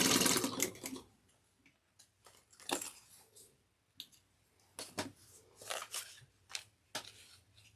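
A sewing machine stitches a seam on a woven tote, backstitching at the start and end, in several short bursts of rapid mechanical chatter with brief pauses between them, close and clear.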